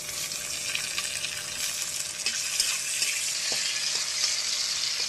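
Tomatoes sizzle steadily in hot oil in a pan after onions, a dense continuous frying hiss with a few faint stirring knocks, no voices.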